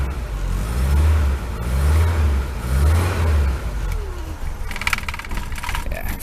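A Rover P6 engine with its choke pushed in runs at a low, uneven tick over, its revs surging and sagging in three pulses before settling and flickering, heard up close with some clatter and no voices.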